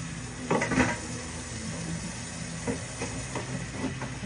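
BiPAP machine parts washed with water, with close clattering knocks of plastic pieces against a sink and a running, hissing wash underneath, no talking.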